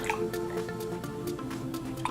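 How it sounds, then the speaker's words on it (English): Water dripping back out of a drinking straw as pressure is released, a quick series of small, close, faint drips and splats in a quiet room. "you can actually let the water from the straw or the drink from the straw go back out by just releasing that pressure"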